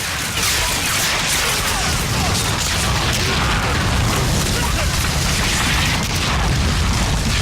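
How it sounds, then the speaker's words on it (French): Artillery shells burst on a beach during a World War II landing in the Medal of Honor PC game, a dense continuous roar of booms, rumble and gunfire, loud and close. "Les soldats s'écroulent les uns après les autres, les obus éclatent sur la plage."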